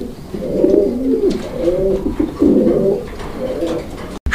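A pair of pigeons coo nearby in repeated low, throaty rolling phrases, four or five in a row, loud and close with little else around.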